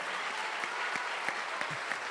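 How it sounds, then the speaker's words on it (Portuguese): Church congregation applauding loudly, a dense, steady wash of clapping that holds at full strength throughout, with a few sharper individual claps standing out. "Agora pode aplaudir bem forte para ele escutar aqui"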